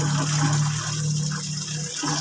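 Water is poured steadily over animals to cool their overheated bodies, a continuous close splashing gush with a low hum running underneath.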